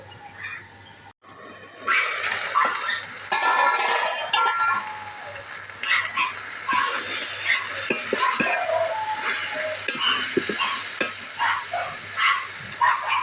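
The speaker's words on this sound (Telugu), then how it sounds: "మనకైతే ఫ్రై అవ్వాలన్నమాట అప్పుడు మనం జీడిపప్పు చికెన్ వేసుకోవాలి" Chicken and cashews frying in a pan, sizzling loudly and close for a long stretch, with repeated spoon scrapes and stirring clatter throughout after a quiet start.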